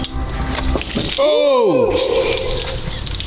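Water gushes and splashes out of the engine head of a water-damaged Mercedes-AMG GT as the engine is cranked over. The rushing liquid is loud and close, with a brief exclamation from a man over it.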